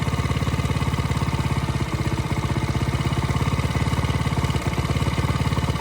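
A carburetor engine idles steadily and close up, its fast even pulse running throughout while the idle speed is turned up slightly; a couple of brief dips in the rhythm appear along the way.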